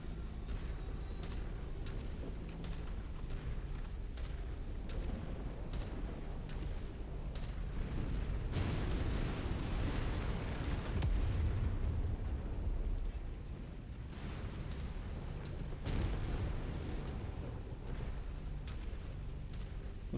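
Deep explosions from a destroyed target in a video game roll out as loud, rumbling booms, swelling heavily mid-clip and again later over a constant low roar, with no talk.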